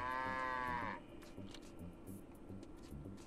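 A cartoonish cow moos once in The Sims 2 on the Nintendo DS, a long harmonic game sound effect lasting about a second, followed by quieter game background noise with faint rhythmic music.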